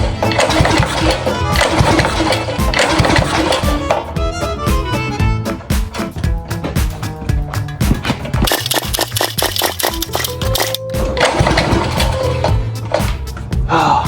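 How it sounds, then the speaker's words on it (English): A drift kart engine cranking and catching on a cold day outside, a loud continuous rough mechanical clatter and buzz throughout, with faint talk mixed in. "let's see if she starts now."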